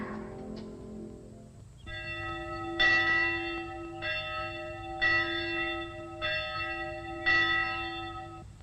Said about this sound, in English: The bells have stopped.